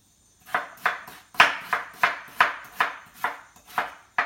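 A knife chops a large potato into small pieces, about ten sharp, evenly spaced strikes in a quick steady rhythm, close and clear with no talk.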